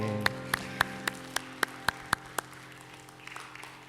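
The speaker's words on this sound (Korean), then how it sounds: "우리 하나님께 감사 영광의 박수 올려드리겠습니다" A church congregation at a Korean worship service claps in unison: about nine crisp, evenly spaced claps over a sustained keyboard tone, fading out after a couple of seconds.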